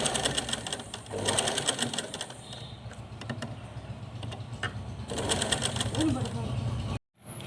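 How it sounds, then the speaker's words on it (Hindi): A sewing machine slowly stitches fabric in a circle for a small festive doll dress, a steady close mechanical whir with a rapid rhythmic patter that stops abruptly near the end, with a voice talking over it. "इस तरह से हम बहुत ही आहिस्ता आहिस्ता गोलाई में इसको सिलाई लगाएंगे"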